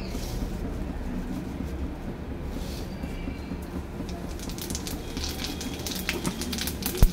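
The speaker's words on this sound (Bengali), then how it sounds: "জিরে ফোড়ন।" Cumin seeds hit hot oil left over from frying fish, giving a steady broad sizzle with scattered crackles and pops that grow busier toward the end.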